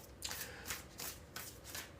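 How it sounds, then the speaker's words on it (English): Cards are shuffled for a Leo tarot-style card reading, producing several quick, crisp riffling bursts in a steady rhythm, close and fairly quiet with no talk. "All right, 3 more shuffles, y'all."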